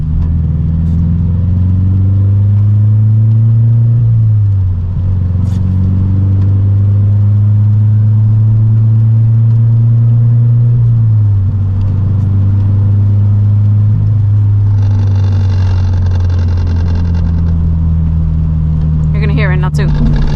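2014 Subaru BRZ exhaust heard from inside while driving over bumps: a loud, steady low engine drone with pitch shifts as revs rise and fall, occasional rattles and thumps, and a voice talking over it.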